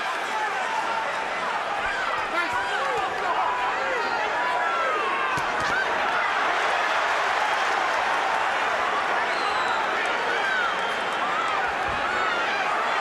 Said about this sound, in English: guttural roar from this crowd wanting to see Gatti close the show